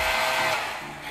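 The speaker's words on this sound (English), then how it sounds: "All right, so I have my craft hairdryer." An old 1980s hair dryer blows a steady, loud broadband whoosh of air with a faint motor whine, continuous for about a second with no talk.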